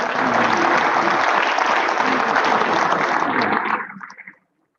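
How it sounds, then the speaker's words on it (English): Loud, sustained applause from a crowd at a football award ceremony, a dense wash of many hands clapping close by that holds steady, then tapers off and stops near the end. "One more round of applause for these guys."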